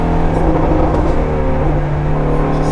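A Shelby Ford GT350 V8 at wide-open throttle on a test drive, heard from inside the cabin as a loud, sustained, throaty engine roar with steady pitch and strong low rumble, no talking.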